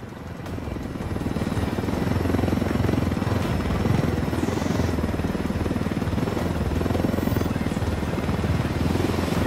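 A helicopter in the video game Ghost Recon Wildlands, a loud, continuous close rotor thump and engine drone that swells at the start and holds steady.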